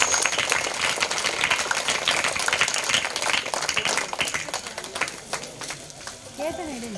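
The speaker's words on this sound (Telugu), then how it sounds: "ఒకసారిగా మేము ముందు మేడంకు గట్టిగా క్లాప్స్ కొట్టండి" A crowd at a temple event claps hard together for a woman being honoured, a dense, sustained patter of many hands that keeps on for several seconds and thins a little near the end.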